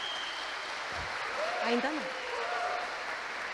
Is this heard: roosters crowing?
no